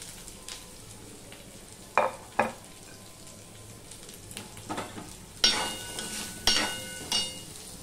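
Chopped pumpkin frying in a pan, a soft continuous sizzle punctuated by several sharp scraping clatters of a spatula stirring against the pan, close and fairly quiet, with no talking.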